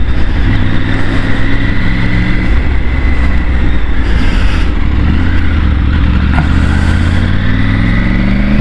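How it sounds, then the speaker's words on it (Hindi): Triumph Tiger 900 GT adventure motorcycle engine drones loudly under way, a close, steady throbbing hum with wind noise and slight rises in pitch as the bike rides on. "मतलब अभी मैं चला रहा हूँ टाइगर 900 GT।"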